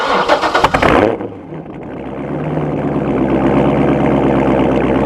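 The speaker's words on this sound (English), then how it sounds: "Just started the Corvette." A Corvette engine cranks and catches with a loud burst of revving, then settles into a deep, rumbling idle close by.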